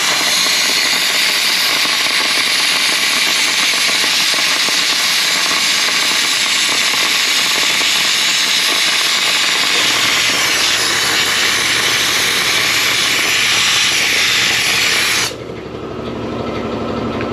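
Dry ice blaster cleaning glue residue off a wheel: a loud, steady jet-like hiss of compressed air and pellets runs continuously, its pitch dropping and thinning abruptly near the end as the blast cuts back.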